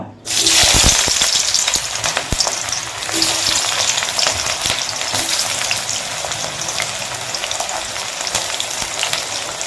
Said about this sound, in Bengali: তেলটাও গরম হয়ে গেছে এখন কি করব কেটে রাখা পেঁয়াজটি আমি দিয়ে দেব